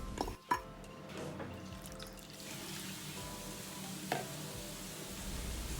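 Palm sugar and water stirred together in a pot over low heat give soft, faint scraping and liquid swishing, with a couple of sharper clinks against the pot and a low steady background hiss.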